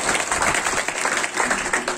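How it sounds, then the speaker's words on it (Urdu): Audience clapping at a PTI political corner meeting in Panyam, Pakistan: a steady, dense burst of applause from a crowd, fairly loud and continuous for the whole moment, with no speech over it. "جیسا کہ آپ کی تالیاں یہ بتا رہی ہیں کہ آپ بے انتہا خوش ہیں"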